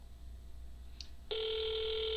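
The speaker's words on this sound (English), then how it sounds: "if somebody is calling your phone, please do something about it" A phone starts ringing abruptly after a short tone, a loud steady electronic ring that continues to the end, with quiet room noise before it.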